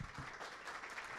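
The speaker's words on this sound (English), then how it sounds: "a round of applause please for Zuhair" A short burst of applause, dense and steady clapping from a crowd filling the whole moment.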